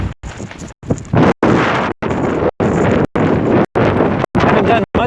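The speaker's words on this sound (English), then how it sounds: "it's windy" Strong gusting wind in Death Valley, California, buffeting a microphone with loud broadband roar and rumbling, broken by several sharp brief dropouts between gusts.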